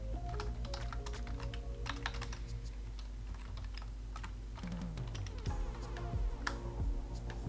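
Steady, rapid keystrokes on a computer keyboard as a terminal command is typed, close up over a low background hum, with no talking.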